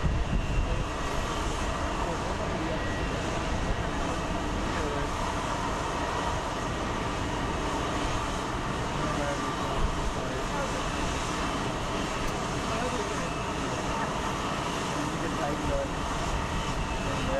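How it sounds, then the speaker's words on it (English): A Canadair Regional Jet approaching Phoenix Sky Harbor airport makes a steady, broad engine roar that lasts throughout, with background talk mixed in. "let's go take a look at our CRJ that's approaching."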